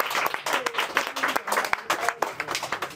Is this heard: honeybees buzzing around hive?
no